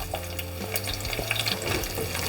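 Sliced onion sizzles in a pan of oil while being made into paneer chili, a steady close frying hiss broken by soft stirring clatter, with no talking.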